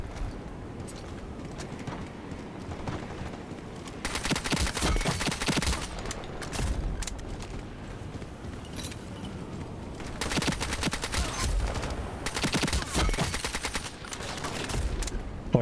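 AK rifle fire in the online shooter Ironsight crackles in rapid automatic bursts, with heavy sustained volleys and sporadic distant shots in between.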